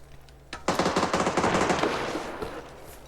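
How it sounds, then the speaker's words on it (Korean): Rapid automatic gunfire from teammates in an online shooter game, dense bursts of shots starting after half a second and rattling continuously, loud and close, with no talk over it. "우리 팀 쏘는 거 장난 아니"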